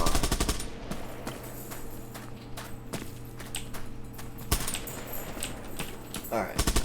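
In the online shooter Bullet Run, a mounted turret fires rapid bursts of gunfire at the start and end, with scattered single shots in between and a voice talking over the action.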